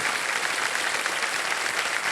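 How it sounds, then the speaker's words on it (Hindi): A studio audience on a televised quiz show applauds a contestant who has chosen to quit with one lakh rupees, a steady, dense wash of clapping that holds evenly throughout. "तालियां बज जाए इनके लिए"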